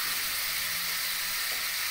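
Prawns sauté in a pan with a splash of water, a loud, close, unbroken sizzling hiss that holds steady for the whole moment.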